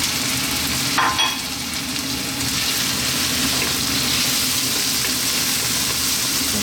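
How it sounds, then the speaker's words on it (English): Chickpeas tip into a hot frying pan with garlic ginger paste and fresh chilli for chana masala, a brief clatter at the start followed by steady, moderately loud sizzling and frying. "I'm going to add our chickpeas."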